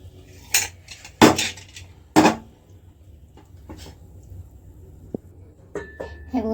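Metal clinks and clatters as a pressure cooker whistle and lid are removed from a pot of cooked mutton, a few sharp separate knocks with quiet gaps between them and a soft voice at times.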